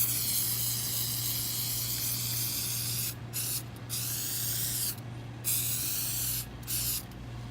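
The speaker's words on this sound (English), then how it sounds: "now we're going to put the developer on there." Weld test developer hisses from an aerosol can onto a weld in long continuous sprays, broken by several brief pauses. The sound is close and fairly quiet, with no talk.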